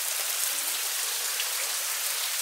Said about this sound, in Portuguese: tá chovendo horrores aqui no quintal de casa.